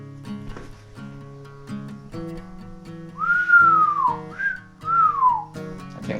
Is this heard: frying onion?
no